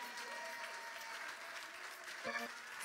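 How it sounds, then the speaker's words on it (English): A church congregation claps hands together during a prayer service, a soft, steady patter of many hands heard at a distance, with a brief voice or tone rising near the end. "Clap your hands properly"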